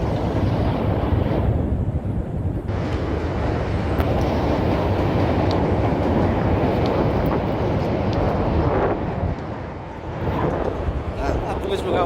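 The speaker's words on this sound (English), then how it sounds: "I hear the train coming, so we are lucky." A train rumbles past in downtown Chicago near Trump Tower on a winter street, a loud continuous roar with wind buffeting the microphone and someone talking over it.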